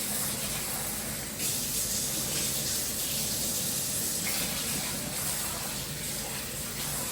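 Tap water runs steadily into a kitchen sink while rice is rinsed, a continuous close hiss and splash with slight shifts in flow and no talking.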